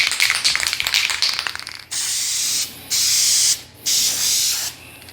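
A spray paint can coats a sun-damaged 2015 Toyota mirror cap: a rattling shake first, then three loud steady hissing bursts separated by short pauses, close and alone.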